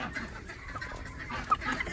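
Two Cochin hens in a backyard coop giving soft, low clucks and a brief sharper call, faint and close amid quiet outdoor background.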